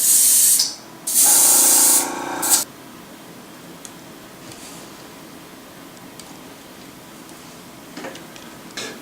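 Two short hissing bursts from an aerosol spray can painting a miniature model, close and loud, followed by quiet room tone with faint ticks.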